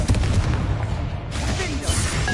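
Confringo explosive spell blast in the video game Hogwarts Legacy, a booming burst with a rumbling tail and a second crackling impact, heard alone.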